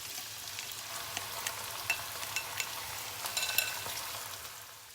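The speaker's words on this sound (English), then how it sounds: "And now I will add the beef inside." Beef frying in a wok with black pepper for a stir fry, a soft continuous sizzle with light crackles and a few small clinks, close but fairly quiet, with no talking.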